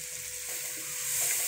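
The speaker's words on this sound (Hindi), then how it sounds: "अब हम लोगों ने इसको मसाले के साथ भूनना है" Spices and tomatoes frying in a pan for an eggplant and potato dish, a steady close hiss of sizzling that swells slightly toward the end.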